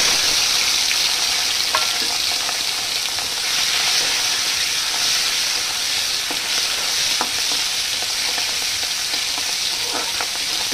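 Shrimp coated in salt and turmeric frying in a pan, giving a steady loud sizzle with occasional stirring clicks, continuous and close with no talking.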